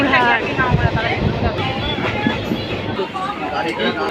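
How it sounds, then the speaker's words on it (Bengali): A train rumbles steadily with a low, rolling clatter of wheels on track, heard from inside the carriage as it pulls into Rampurhat station. "আমাদের ট্রেন রামপুরহাট স্টেশনে ঢুকে যাচ্ছে"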